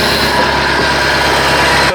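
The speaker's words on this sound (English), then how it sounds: "Phase one, we have a running motor." A MerCruiser 3.0 engine in a neglected Bayliner boat idles while warming up, a steady low rumble with a fixed hum that stays even for the whole stretch before cutting off abruptly at the end.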